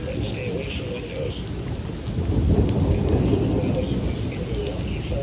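Thunderstorm with heavy rain and large hail in southern Wisconsin, a steady loud roar of rain with a deeper rumble of thunder swelling midway and holding.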